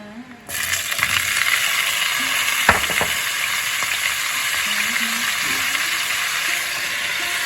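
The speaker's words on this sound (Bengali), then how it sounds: "এখন বেগুনটা আমি ভেজে নেব।" Eggplant slices frying in about three tablespoons of cooking oil, seasoned with turmeric and salt, give a steady close sizzle that starts abruptly and holds for several seconds, with a few small clinks of utensils.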